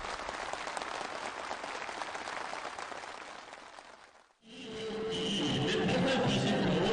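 Steady applause from a crowd fades out, then a fresh burst of clapping swells up and holds loud and enthusiastic.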